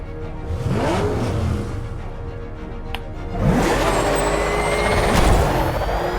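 The Batmobile from Batman Arkham Knight roars along, its engine surging and revving loud and close, with a sharp click and whooshing passes as it speeds on.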